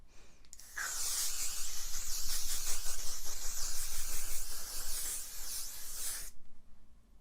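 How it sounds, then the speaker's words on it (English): L'Oreal Infallible 3-second setting spray misting from its bottle: one long, steady, close hiss lasting several seconds, then cutting off abruptly, with no talk over it. "this is the L'Oreal Infallible 3-second setting spray"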